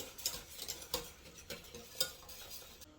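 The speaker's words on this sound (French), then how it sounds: "on va venir faire bouillir le lait 1 minute tout en remuant énergiquement" Milk boiling in a saucepan is stirred vigorously, giving faint, quick scraping and light metallic taps of a utensil against the pan in an uneven rhythm.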